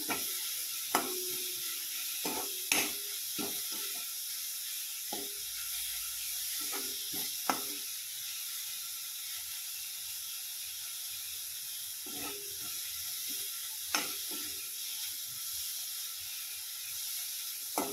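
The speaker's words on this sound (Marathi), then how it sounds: "आता थोडा वेळ भाजून घेऊ आपण, जास्त नाही भाजायचं याला।" Ridge gourd peel chutney (thecha) roasting in a pan, a faint steady hiss with scattered light clicks and scrapes of a spoon against the pan.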